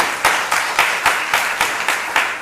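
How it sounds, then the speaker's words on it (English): Audience applause at a university orientation, with rhythmic, evenly spaced clapping bursts, loud and continuous throughout, no voices. "Can we have a round of applause, please?"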